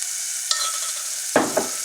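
Homemade Thai curry paste frying in a little oil in a small saucepan: a soft steady sizzle with three sharp stirring scrapes, the last two close together, near and alone.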